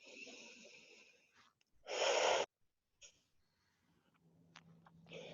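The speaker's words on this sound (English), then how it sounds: "One more nice deep breath here." A deep breath taken during a morning stretching session: one loud, close inhale of about half a second in the middle, with softer breathy sounds before and after it in an otherwise quiet room.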